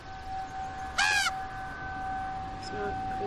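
A bird gives a single short, bright call near the one-second mark, rising out of a steady outdoor background with a constant tonal hum, followed later by a fainter brief chirp.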